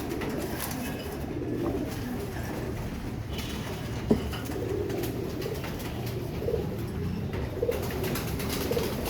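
Pigeons coo steadily inside a loft, a continuous low murmuring chorus of soft overlapping calls with a few sharper wing or foot noises, no voices.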